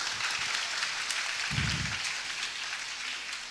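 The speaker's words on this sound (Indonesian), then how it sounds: "tepuk tangan untuk beliau" Audience applause for a speaker at a public talk, a dense, steady patter of many hands, fairly faint and diffuse, with a brief low thump partway through.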